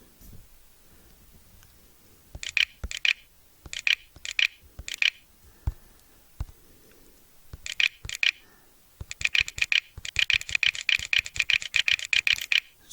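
Keys clack on a computer keyboard in short bursts of quick strokes separated by pauses, ending in a longer, denser run of rapid typing, close and fairly crisp.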